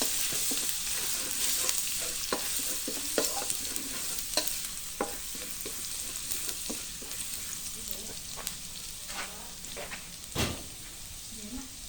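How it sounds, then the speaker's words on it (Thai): Mushrooms stir-fried in oyster sauce in a pan, a continuous close sizzle broken by repeated scraping and clacking strokes of a spatula at an irregular rhythm, fairly quiet with no talk. "เมนูผัดน้ำมันหอยเห็ดปวกนะครับ"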